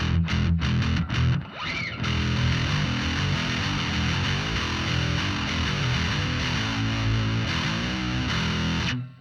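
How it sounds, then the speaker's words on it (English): A heavily distorted Alembic 8-string fretless bass guitar growls loudly and continuously, after a few sharp plucked attacks at the start. "the sound is just so mean. This is like a distortion."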